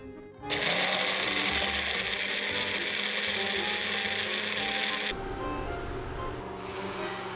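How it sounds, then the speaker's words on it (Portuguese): A kitchen blender whirs loud and continuous as it mixes crepe batter ingredients, starting abruptly and running steadily for several seconds before its pitch drops slightly, with no one speaking. "E agora que já juntamos todos os ingredientes da massa, vamos batê-los no liquidificador."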